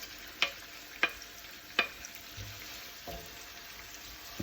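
Curry leaves dropped into a pan with browning onion: a few sharp crackles and spatters stand out over a faint, low sizzle, spaced about half a second apart at first, then quieter scraping.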